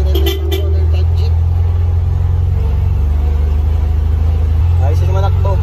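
A stainless owner-type jeep engine rumbles steadily and loudly on a test drive, a deep continuous low drone with a brief rev swell near the end.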